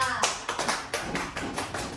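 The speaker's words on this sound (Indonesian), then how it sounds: "tepuk tangan untuk kelompok Tirta" Classmates clap for a student group that has just finished presenting in a micro-teaching class, a few distinct bursts of hand claps close by, loose and uneven in rhythm, with some speech around them.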